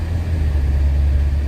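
Train passing on the streets of Bakersfield, California, heard as a loud, steady low rumble that fills the whole moment without breaks or talk.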